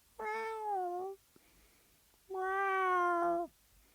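A cat meows twice, each a drawn-out, clear, nearby call of about a second, separated by a short quiet pause, with no voices.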